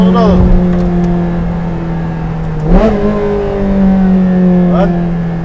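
Ferrari Challenge Stradale engine in race mode, loud and close, holding a steady drone with sharp rising revs and quick gear shifts, under faint cabin chatter.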